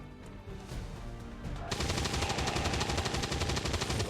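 Automatic gunfire from the video game XCOM 2: War of the Chosen starts abruptly partway through, a dense, rapid, continuous rattle of shots following a quieter stretch of game ambience.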